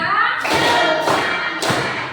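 A classroom of students claps in a counted clapping game during an icebreaker, giving broad, loud bursts of claps in a few distinct groups, with a teacher's voice calling out the count between them.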